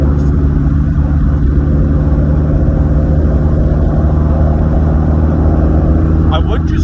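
A Jeep Wrangler on big tires accelerating at full throttle in fourth gear on flat ground, a loud, steady, low engine roar with tire and road rumble throughout, heard from inside the vehicle.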